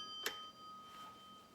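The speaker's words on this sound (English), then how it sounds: "the bell has gone off" A kitchen timer bell dings once, a single bright ring that fades over about a second in a quiet kitchen.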